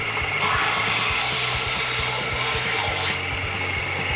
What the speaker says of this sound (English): I'm going to get this sanded just a little bit